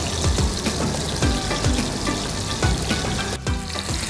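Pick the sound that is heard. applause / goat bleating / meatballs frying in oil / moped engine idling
meatballs frying in oil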